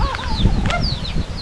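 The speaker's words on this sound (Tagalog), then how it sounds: "Shoutout sa manok na to." A chicken clucks and squawks in a few quick calls close by, mixed with scuffling and rustling noise in a short, loud burst.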